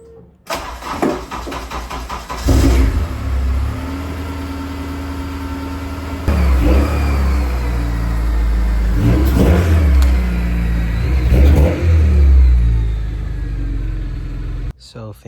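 A K-swapped Honda Civic EG with an eBay exhaust starts, then idles and revs several times, the engine loud and close, with throaty bursts rising and falling over a steady idle.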